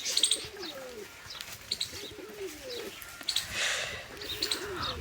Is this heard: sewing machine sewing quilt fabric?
no